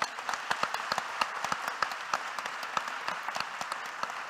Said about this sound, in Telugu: మరి ఒక అసోసియేషన్ మీటింగ్ నెక్స్ట్ ఇయర్ ఎక్కడ జరగాలో మీ చప్పట్ల ద్వారా వీళ్ళకి తెలియజేయండి